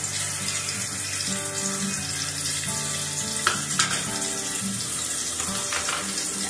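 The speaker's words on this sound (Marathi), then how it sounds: "हलवून फ्राय करायचे लसूण वगैरे सगळं तेलामध्ये।" Crushed garlic frying in oil for a pulao, stirred through the pan: a steady close sizzle throughout, with a few sharper clinks and scrapes around the middle.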